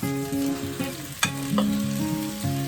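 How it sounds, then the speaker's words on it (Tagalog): Marinated chicken hits a hot pan for Tausug-style chicken piyanggang, giving a loud, steady sizzle and frying crackle with a few sharp clatters of stirring, close and alone. "We can now add the chicken, the marinated chicken,"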